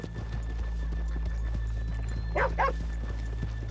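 Horse hooves clip-clop in Red Dead Redemption 2, faint repeated steps under a low ambient hum, with a brief dog-like yelp partway through.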